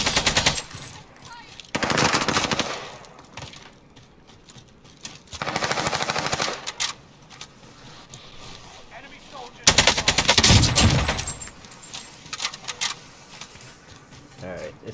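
Bursts of automatic AK rifle fire from Black Ops, loud rapid volleys in several clusters separated by quieter stretches, with players talking over the gameplay.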